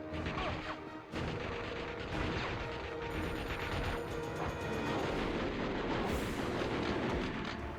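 Submachine gun fire in Dead to Rights, rapid crashing gunfire and impacts layered with game action noise, loud and continuous with a brief drop near the start.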